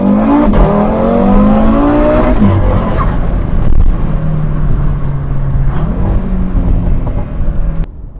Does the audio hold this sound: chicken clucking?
no